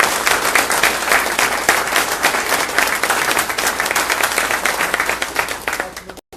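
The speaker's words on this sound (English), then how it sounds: "Right now, we can applaud and say, congratulations to Mr. Tim Walton" Sustained audience applause filling a meeting hall, dense and steady for about six seconds before cutting off abruptly at the end.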